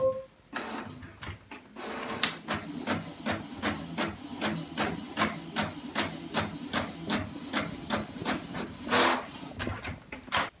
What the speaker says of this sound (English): my printer just printed a coloring page